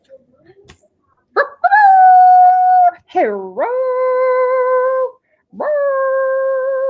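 A person imitates a dog howling in long, wavering, tonal cries, three drawn-out howls with brief breaks, loud and close, after a short spoken exclamation.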